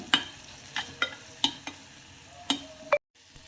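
Grated mango chutney seasoning with onions being fried in a pan, heard as a series of sharp scraping and clinking stirs over a faint sizzle, about six distinct strokes, close up with no talk.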